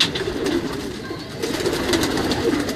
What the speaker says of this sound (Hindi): ये उस्ताद यूसुफ सुबानी साहब के कबूतर हैं, ग्रे गोल्ड, ग्रे डायमंड।